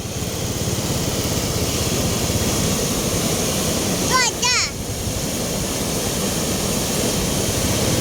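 Brown floodwater of the Batang Pakau river in Pasaman, surging suddenly without rain, gives a steady broadband roar that holds even throughout, broken only by a brief high chirping sound about halfway through.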